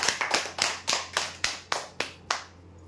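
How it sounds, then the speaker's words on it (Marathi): Clapping for a crockery-set prize winner at a weekly lucky draw: about ten sharp, close claps in a loose, slowing rhythm, each ringing briefly before the last one fades out. "जोरदार टाळ्या होऊ द्या यांच्यासाठी"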